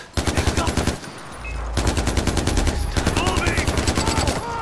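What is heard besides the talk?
gunfire in a video game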